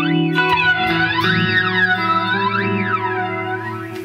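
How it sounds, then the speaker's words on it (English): An Old Blood Noise Endeavours Procession reverb pedal with its reverb cut very short, so the guitar tone takes on a sweeping flanger effect, loud and continuous, with repeated rising and falling jet-like whooshes over sustained chords, no voices. "Just turns it into a flanger."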